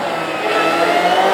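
Classic hot rod cars rev at a race track on a sunny afternoon, a loud, close engine roar climbing steadily in pitch over a brief burst.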